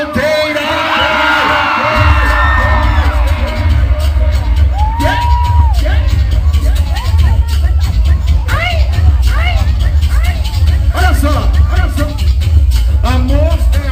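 A loud crowd of women shrieking and cheering over a pounding bass-heavy funk beat at a baile funk show at an agricultural festival, voices overlapping in a dense, continuous roar.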